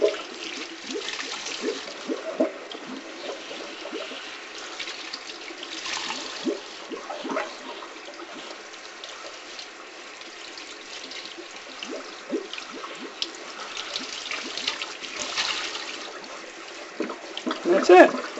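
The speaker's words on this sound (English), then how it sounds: "So we are going to just get this nice and wet and wring it out." Water splashes and trickles in a sink as an SSR Buccaneer motorcycle air filter is soaked and wrung out, with uneven drips and squeezing sounds close by while someone talks now and then.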